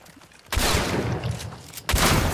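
Video game gunfire from an opponent shooting at the player, two dense bursts of rapid shots, loud and close, separated by a brief gap.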